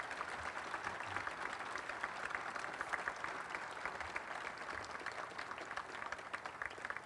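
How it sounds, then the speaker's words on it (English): Crowd at a Special Olympics National Games press conference in New Jersey applauds the athletes, a faint, even wash of many hands clapping steadily for several seconds, heard from some distance. "let's have a quick round of applause for our athletes who are here today"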